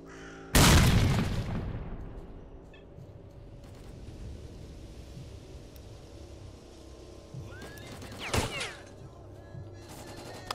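Grenade explosions and gunfire in a video game: a sudden loud blast opens and fades into a long rumbling tail, then a second sharp burst hits near the end over a quieter ambient bed with occasional crow-like calls.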